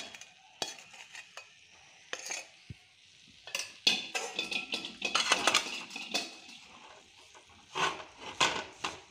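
A spoon scrapes and clatters in a pan as a Mysore pak mixture is stirred, giving irregular close clinks and scrapes with a soft background sizzle and no talking.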